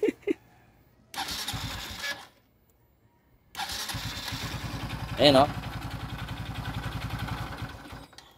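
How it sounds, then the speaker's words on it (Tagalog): A motorcycle engine starts, cuts out, then restarts and idles with a steady rapid knocking pulse from a faulty connecting rod, a brief voice speaking over it. "Ganun yung tunog ng connecting rod"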